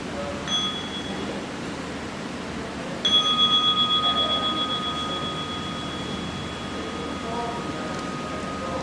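A mindfulness bell (genta) rings during a mindfulness training session, with a soft wake-up tap near the start and then one full strike at three seconds whose pure, steady tones ring on for several seconds over faint room noise.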